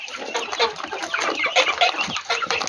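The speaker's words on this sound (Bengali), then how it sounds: "এটি সব আমার পাহাড়ি মুরগির বাচ্চা" Hill chicken chicks cluck and cheep in a busy, overlapping chorus while pecking at fermented corn, close and steady throughout with no talking.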